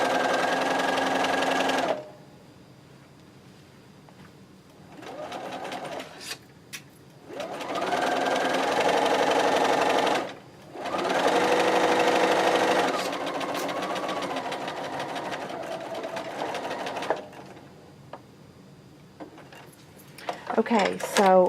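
A sewing machine stitches quilt pieces together in several loud bursts of whirring, broken by short pauses, with a speaking voice in the background.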